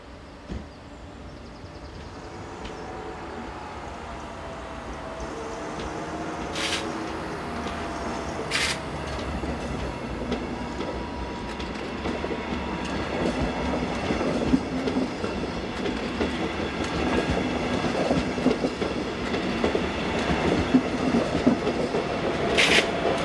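A passenger train bound for Luxembourg pulls away, pushed from the rear by locomotive 4010, its rumble and rail noise building steadily over time with faint clicks from the wheels, fairly close and with no voices.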